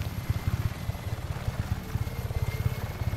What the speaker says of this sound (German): Ach, mein Helikopter geht schnell.